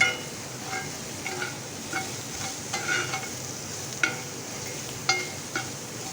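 Ginger garlic paste and curry leaves sautéing in a pan, a steady close sizzle with scattered stirring clicks and spatula scrapes, moderately quiet, no voices.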